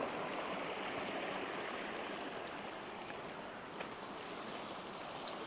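Forest stream in Ohio flowing past a pipe near the bank, a steady broadband wash of running water with faint wind, continuous and fairly close, with no voices.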